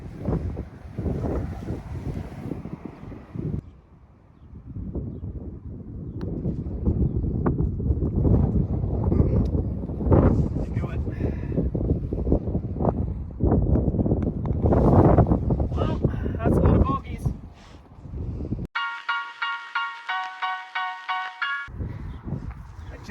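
Strong, gusty wind on a golf course on a freezing day buffets the microphone with a loud, rumbling roar that rises and falls. A voice talks over it, and a short electronic beeping tone breaks in near the end.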